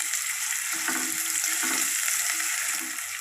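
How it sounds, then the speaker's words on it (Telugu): Onions sizzle and fry in a pan of hot oil for jeera rice, a steady bright crackle with a few soft stirring scrapes at a regular pace, close and alone without talk. "ఇప్పుడు ఆనియన్స్ గోల్డెన్ కలర్ వచ్చేంత వరకు ఫ్రై చేసుకుందాం"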